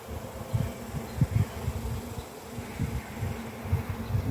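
Honeybees buzz softly around an opened hive during an inspection, a low, continuous drone broken by short, pulsing swells as individual bees pass near.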